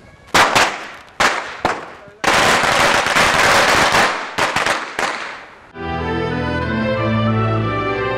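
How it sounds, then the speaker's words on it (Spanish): A string of firecrackers, a so-called machine gun string, bursts in loud, rapid crackling volleys with brief gaps, then gives way to a steady tonal hum as the popping ends. "vamos a quemar la ametralladora ya"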